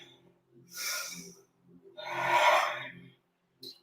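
Deep yoga breaths during a power yoga class, two long audible breaths drawn in close to the microphone, followed by a short breathy puff at the end, with no talking.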